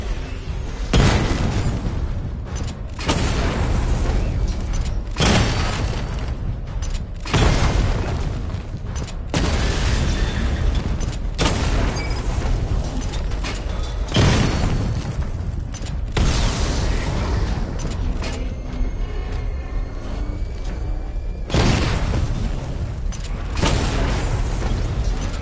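Missile barrage explosions from the Batman: Arkham Knight video game, a run of heavy, loud booms repeating every couple of seconds with rumbling tails in between, no talking.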